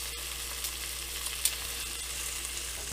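Oxtail pieces frying in a pot for a Jamaican-style oxtail dish, a faint steady sizzle with occasional soft pops and no voices.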